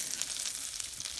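Hashbrowns, bacon and eggs sizzle on a Blackstone flat-top griddle, giving a steady close hiss with fine crackling spatter and no voices over it.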